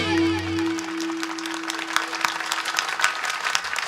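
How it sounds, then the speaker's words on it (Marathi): Audience clapping along at a Marathi comedy kirtan: a steady run of brisk, close claps follows a held sung note at the start and continues to the end. "टाळी जोरात"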